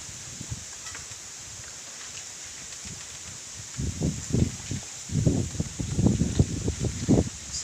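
Strong wind gusts rustle and thrash through bamboo, swelling in loud bursts in the second half over a steady hiss.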